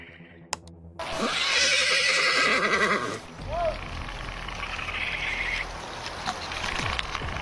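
A horse on a misty forest trail lets out a loud whinny with wavering pitch for about two seconds, followed by quieter snorts and rustling against a steady outdoor background.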